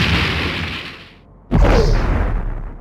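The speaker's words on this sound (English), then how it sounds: "Enemy ship is firing." Weapons fire from an enemy starship in the Star Trek: The Next Generation – A Final Unity game: a sustained booming blast fades out, then a second loud explosive burst hits at full force and rumbles on, with no talking.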